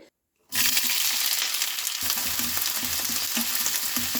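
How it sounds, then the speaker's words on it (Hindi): Roughly chopped onions hit hot oil in a pan for a Banarasi stuffed dum aloo, bursting into a loud steady sizzle after a brief silence, with light rhythmic scraping of a spoon stirring through the second half. "तेल गरम हो जाए तो इसमें हम डाल देंगे प्याज।"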